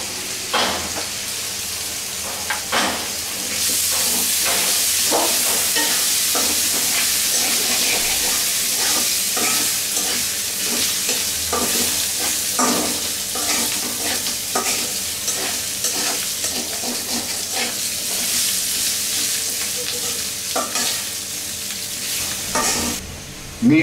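Polao rice frying in a pan for a rohu fish head murighonto, a continuous loud sizzle broken by frequent scraping stirs of a spatula for the whole stretch, with no talking.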